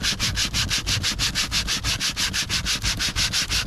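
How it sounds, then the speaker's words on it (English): A light hand rubs sandpaper back and forth over the fabric around a split in an inflatable boat's hull, a fast, even scratching rhythm of about five strokes a second, close and steady, with no speech. "we're going to just slightly sand this down"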